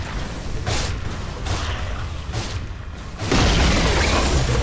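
Dota 2 tower being destroyed amid battle, repeated booming impacts and whooshing bursts building to a loud rumbling crash near the end, with no talk.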